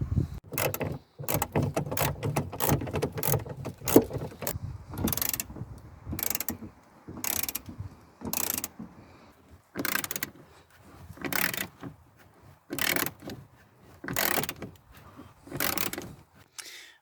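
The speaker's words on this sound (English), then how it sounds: "Right, so that's the bolt removed down on the wheel arch." A ratchet works on a seat belt bolt in a Rover Metro 100. It is heard as bursts of close, sharp clicking, separated by pauses, and the bursts repeat in a rough rhythm.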